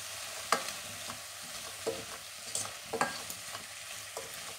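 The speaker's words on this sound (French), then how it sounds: "Donc je viens bien tout mélanger" Soup ingredients are stirred in a pot, a spoon scraping and tapping the sides in irregular strokes over a faint steady sizzle, close by and without speech.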